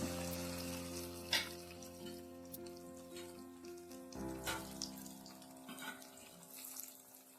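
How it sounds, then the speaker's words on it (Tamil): Chicken pieces fry in oil over medium flame with a bubbling sizzle and occasional sharp crackles, heard under steady tonal background music. "சிக்கனை பொறிச்சு எடுத்துக்கலாம்"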